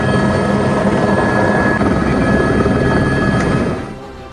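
A rescue helicopter hovers over floodwater while people are lifted one by one from a rooftop, its loud, steady rotor and engine drone filling the air before fading slightly near the end.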